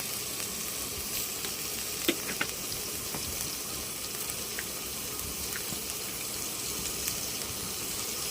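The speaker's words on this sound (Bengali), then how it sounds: "পেঁয়াজটা আমি নরম করে ভেজে নেব" Onions softening in hot oil in a pan for a Bengali egg chop, a steady soft sizzle running throughout with a few faint clicks on top.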